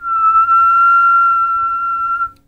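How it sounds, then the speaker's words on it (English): A person whistles one sustained, clean pure tone, steady and loud for about two seconds before it stops abruptly, alone with no talk. "when people whistle, it's usually very annoying"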